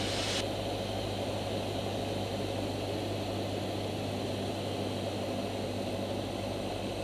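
Steady drone of a light training airplane's propeller engine heard from the cockpit as power is pulled back toward 1500 rpm during a private pilot training flight, a continuous hum with no talk.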